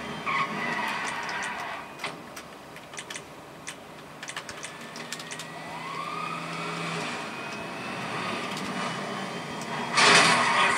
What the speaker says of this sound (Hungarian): nekünk jött egy autó